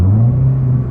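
Car fitted with an aftermarket exhaust, giving a steady, loud, deep droning rumble held close for about a second with no talk.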